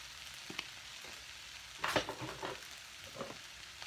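Vegetable fried rice is stirred and fried in a pan, giving soft scraping stirs and brief sizzling bursts, quiet and close, with no talking.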